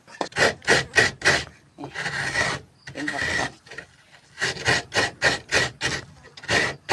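A coconut scraped by hand on a grater in a home kitchen, loud close rasping strokes in quick rhythmic runs broken by short pauses and a couple of longer drags.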